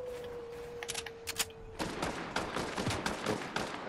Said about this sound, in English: someone started shooting at him when they started rebooting